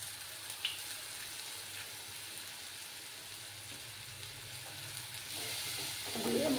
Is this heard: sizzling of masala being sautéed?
yes